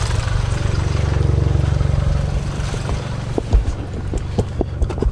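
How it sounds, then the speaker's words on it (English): A Volkswagen MK7 GTI idles with a misfire after running on E85 fuel, giving a close, steady, low engine throb with uneven pulses and a few louder knocks toward the end. "Normally you can hear it in the exhaust if the car's misfiring."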